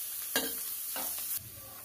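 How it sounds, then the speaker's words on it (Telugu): A spoon stirs aloo masala dosa filling in a hot pan, scraping in a few distinct strokes over a soft, continuous sizzle. "ఇవన్నీ వేసాక బాగా కలుపుకోవాలి."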